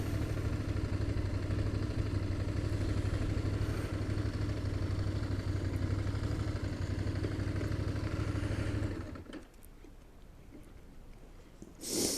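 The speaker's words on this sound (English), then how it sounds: "I have put the quiet exhaust on out of respect." A Honda VTR1000F motorcycle idling steadily with a low, muted rumble from a quiet exhaust for several seconds, then the engine cuts off, leaving quiet ticking.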